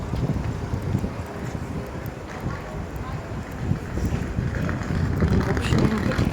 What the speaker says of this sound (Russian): Тут такой сильный ветер.